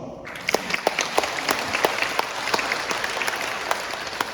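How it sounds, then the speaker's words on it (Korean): An audience at a lecture on Korean Catholic martyrs claps together steadily for several seconds. Sharp individual claps stand out within the dense, moderately distant applause, with no talking over it. "박수 한번."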